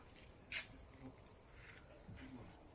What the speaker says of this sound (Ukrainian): та гля гудить, прям дорвався комар